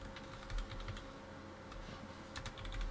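Soft clicking of fingers typing on a computer keyboard, close but quiet, in quick irregular bursts with short pauses.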